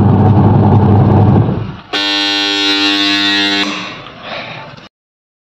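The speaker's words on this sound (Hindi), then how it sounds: "बहुत तेज बजता है इसका ये अलार्म" A new washing machine's alarm buzzer sounds loudly for about two seconds, a harsh, steady, tonal buzz. It follows a rumbling motor and tapers through a short fading tail before silence.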